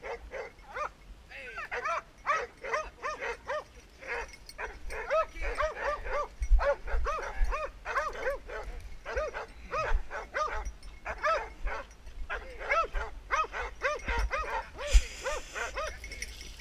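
Several dogs, including an Airedale terrier, bark and yip in quick, irregular bursts close by, with some whimpering between barks.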